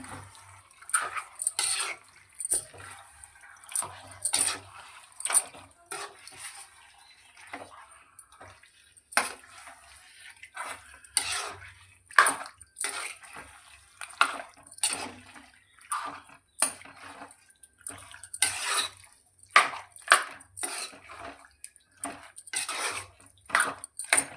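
Chicken curry being stirred in a metal pot, a run of irregular scraping and clanking strokes of a spoon against the pot with brief quiet gaps between them.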